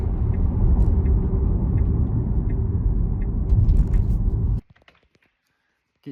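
Steady, loud low rumble of road and tyre noise inside a Tesla Model Y cabin at 107 km/h, continuing for several seconds before cutting off abruptly into near silence.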